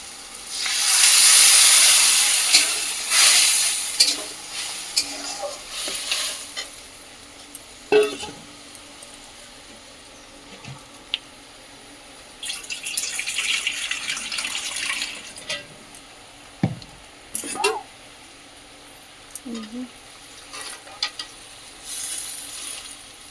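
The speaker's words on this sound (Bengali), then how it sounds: "এবার আমি একটু জল দিয়ে দেবো" Water poured into a hot pan of shrimp curry for chingri paturi, a hissing, steaming wash that is loudest at the start and then fades into scattered clinks and faint sizzling, with no talking.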